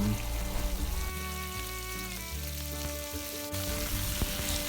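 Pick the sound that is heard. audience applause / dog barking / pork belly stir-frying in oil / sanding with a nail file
pork belly stir-frying in oil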